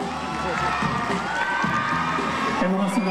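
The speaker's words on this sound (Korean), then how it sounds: "큰 박수 한번 주세요" Crowd at a Korean awards ceremony, the Asia Model Festival Awards, cheering and clapping for a male singer award winner, a busy noisy wash of voices and applause with music-like tones running underneath.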